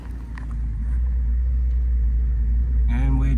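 A Holden Sandman engine idles after a carburettor adjustment with a steady, low, close rumble, and a voice speaks briefly near the end.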